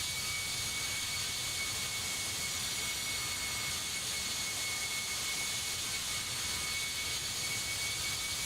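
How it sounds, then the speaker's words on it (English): ToLiss A319 jet in Alitalia livery landing at dusk in the X-Plane 11 flight simulator, a steady, loud, broadband roar of jet engines with a high whine running continuously throughout. "Aircraft comes in."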